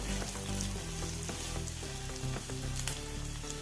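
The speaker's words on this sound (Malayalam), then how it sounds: "രണ്ട് ക്യാരറ്റ് അരിഞ്ഞതായത് അത് ഇട്ട് കൊടുത്ത് നല്ലപോലെ ഒന്ന് മിക്സ് ചെയ്യാം" Chopped carrots sizzle loudly in a pan of oats upma as they are stirred, giving a dense, continuous frying hiss with scraping stir strokes and no speech.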